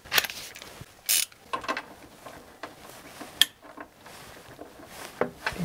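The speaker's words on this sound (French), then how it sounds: "C'est super pratique là, ce cliquet à rallonge." Extension ratchet tightening an 18 mm nut on a car, irregular metallic clicking and clacking with scraping handling noises, close and moderately quiet.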